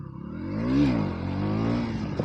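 Single motorcycle engine revving hard during a wheelie attempt, its pitch climbing and falling, then held at a steady roar, close and loud.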